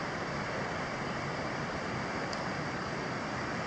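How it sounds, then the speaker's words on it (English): A small cascade of water runs in a river gorge in Warrumbungles National Park, a steady, broad rushing wash with no voices. "Nice little cascade down there."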